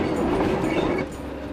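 Heritage railway carriages on a surviving stretch of the old Ghan line in South Australia rumble along with a steady, loud roll and light clatter of wheels on track, heard from inside the train.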